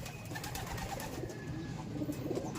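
Soft, low cooing of pigeons over a murmuring background, continuous and moderately close.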